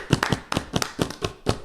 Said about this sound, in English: Clap it up for Michael.